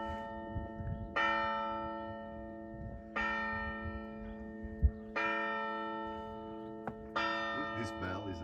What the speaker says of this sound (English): Look, this bell is amazing.